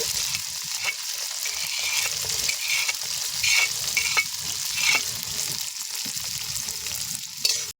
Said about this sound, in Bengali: এবারে দিয়ে দেবো আদা কুচি আর রসুন কুচি।